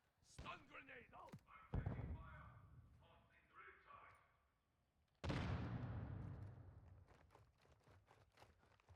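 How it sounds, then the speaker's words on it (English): Footsteps and movement precede a stun grenade in Modern Warfare 2, followed by brief silence, then a sharp, loud bang with a long ringing decay and scattered ticks afterward. "Stun grenade out!"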